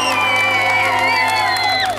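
A birthday party crowd for Zé erupts in loud whoops and high, sustained cheering, close and dense, lasting a couple of seconds before tapering off.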